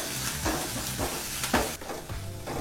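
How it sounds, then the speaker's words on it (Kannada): Mustard seeds, asafoetida, crushed garlic and curry leaves frying in hot oil, giving a steady close sizzle and crackle with occasional spoon stirs and pops. "ನಂತರ ಕರಿಬೇವಿನ ಸೊಪ್ಪನ್ನು ಸೇರಿಸಿ ಒಂದು 30 ಸೆಕೆಂಡು ಇದನ್ನೆಲ್ಲ ಫ್ರೈ ಮಾಡ್ಕೋಬೇಕಾಗತ್ತೆ"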